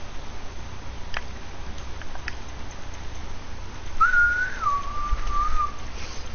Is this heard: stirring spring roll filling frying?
no